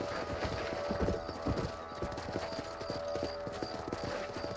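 Steady clip-clop of a horse's hoofbeats in the video game Red Dead Redemption, a continuous trotting rhythm at moderate loudness with no talk over it.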